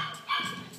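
A Havanese dog lets out a single short, sharp bark, close and clear, lasting under a second.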